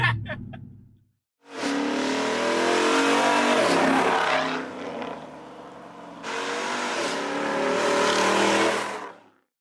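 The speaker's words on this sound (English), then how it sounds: "We're in Sebastian's choice of vehicle, the Sinister 6" A Hellcat-powered Sinister 6 six-wheel truck in Arctic white drives with a loud, sustained engine roar that dips briefly midway and then surges again, heard from up close.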